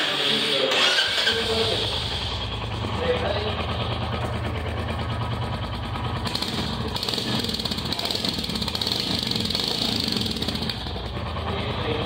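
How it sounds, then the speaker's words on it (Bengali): A Royal Enfield Hunter 350 motorcycle's exhaust rumbles steadily at idle for about twelve seconds, loud and close, with a continuous low throb and no break in the engine note. "আর তোমাদের একবার এক্সজস্টের সাউন্ডটা শোনাই দিই।"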